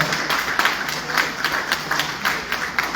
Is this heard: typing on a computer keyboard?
no